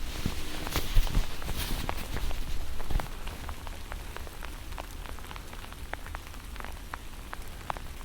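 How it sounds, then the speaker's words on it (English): Rain falls on a hood overhead, a dense, even patter of drops with sharper individual taps scattered throughout, soft and close, with a few louder hits in the first seconds. "what this beautiful rain sound is doing to this changing of space here"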